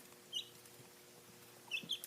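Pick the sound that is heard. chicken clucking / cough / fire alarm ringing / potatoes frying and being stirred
chicken clucking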